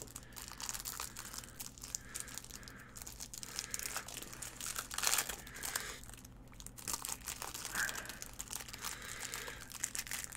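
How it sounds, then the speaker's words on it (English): Packaged Magic: The Gathering cards from a Theros Beyond Death fat pack being opened, soft close wrapper crinkling and tearing in uneven bursts, quiet with no talking. "We will open up the pre-packaged cards to see what we get."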